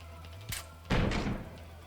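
Thud of a body falling to the ground as a sound effect in the visual novel Piofiore: Fated Memories, a short soft knock followed by a heavier, duller impact with a brief rumbling tail.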